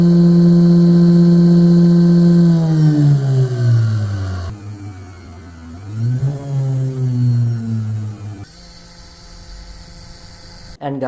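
A 58-watt CNC spindle motor spins at very high speed, its loud steady whine sliding downward in pitch as it slows, then briefly rising again before settling into a lower hum.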